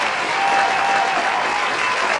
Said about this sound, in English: Fill in with claps.